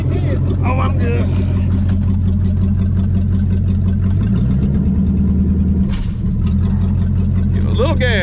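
A 1959 Ford Galaxie Fairlane 500 with a 352 V8, starting after years of sitting, runs loud and close with a steady rumbling idle that briefly rises as the throttle is blipped, while people talk over it.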